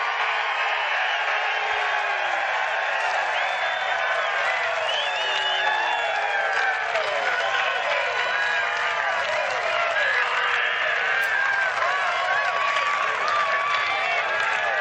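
A big golf crowd at Chambers Bay keeps cheering and yelling during the U.S. Open final round, a loud, continuous roar with scattered whoops and shouts over steady clapping.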